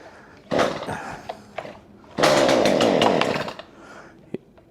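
Cold Stihl MS212C chainsaw on full choke, firing in a short sputtering burst, then a louder two-second buzzing run before it dies, with small pops between, close and loud without talk.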